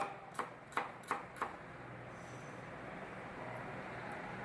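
A Hyderabadi chicken 65 dum biryani is being prepared as a red onion is chopped on a board: four sharp knife chops in quick succession, close and fairly quiet, followed by steady kitchen background noise.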